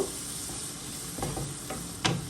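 Garlic and onion paste frying in a pan is briefly stirred, a soft steady sizzle broken by a few scrapes and one sharper tap near the end, heard up close without speech.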